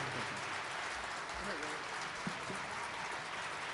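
Faint, steady applause from a breakfast event audience, a distant wash of clapping that carries evenly for a few seconds without a clear break.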